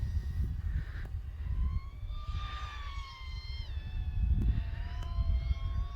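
An iFlight Cidora FPV drone flies low and fast, its high-pitched whining motors rising and falling in pitch as it sweeps past nearby, over steady outdoor wind rumble.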